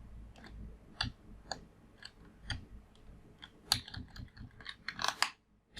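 Computer keyboard typing for a copy-paste shortcut, a sparse series of sharp key clicks that speeds into a quick flurry of taps near the end, close and fairly quiet.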